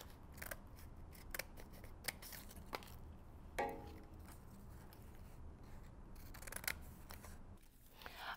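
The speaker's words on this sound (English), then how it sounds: "you cut and you leave about a half an inch on the line, and then you flip the paper and cut it the other way" Scissors snipping through folded paper for a paper-link magic trick, a run of crisp, separate cuts at an irregular pace, close and fairly quiet, with no voices.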